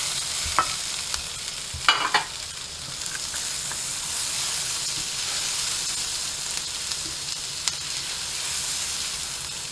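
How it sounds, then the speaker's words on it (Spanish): Peppers sautéing in a pan for a red tuna cheek dish, a steady hissing sizzle with a few scraping stirs and clatters near the start, close and even, no talking. "añadimos el pimiento, también que se va sofriendo."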